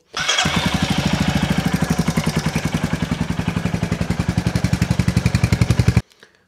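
A Royal Enfield Hunter 350 single-cylinder motorcycle in a workshop during an oil change cranks and catches, then settles into a loud, even thumping idle of rapid regular pulses for about six seconds before cutting off abruptly.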